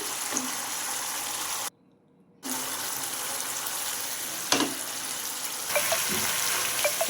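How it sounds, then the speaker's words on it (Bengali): Spice masala for a Bengali begun basanti cooks in oil, giving a steady sizzling hiss with a brief silent gap and a few sharp utensil clinks near the end. "ভালো করে মশলা কষিয়ে নিচ্ছি দেখুন মশলা থেকে অটোমেটিক্যালি তেল বেরিয়ে এসেছে"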